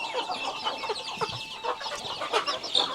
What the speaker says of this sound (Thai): ไก่นี้ มีแต่ไก่ลาดทั้งนั้นเลย